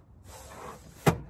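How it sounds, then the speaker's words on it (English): A sliding storage compartment door under a seat is pushed open with a short scraping glide, then stops with a sharp knock close by. "reach down here, slide the door open, pull out a blanket"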